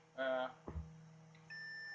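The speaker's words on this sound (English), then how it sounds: "you're greeted by these 3 beeps, or the beeps that happen to indicate that the charging is complete" A short electronic tone sounds, then a soft thump, and a steady higher-pitched beep holds on at the end over a low mains hum, the charge-complete beeps of a Turnigy/UltraPower UP610 smart RC battery charger.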